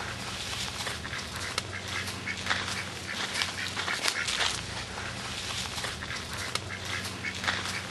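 A duck quacks repeatedly at close range in an irregular series of calls over outdoor background noise and some footsteps.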